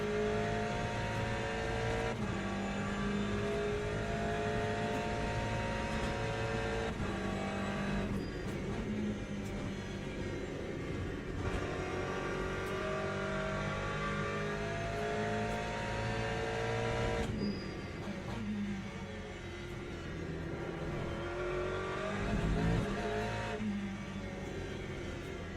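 Race cars in a WEC endurance racing video game, with GTE class cars and hypercars closing in, drone on steadily throughout with layered engine tones that rise and fall in pitch through shifts, and no talking.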